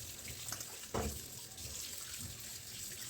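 Tap water runs steadily into a sink while fish is washed with salt, a continuous hiss with a brief splash as the fish is handled, and no talk over it.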